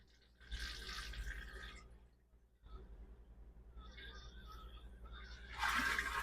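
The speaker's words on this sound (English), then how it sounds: "Halfway down is just water to fill up the bowl." Bowl of an RV toilet in a 2025 Forest River Wildwood Heritage Glen fifth wheel filling with water as the pedal is held halfway, a close hissing rush of water in two bursts with a brief pause between.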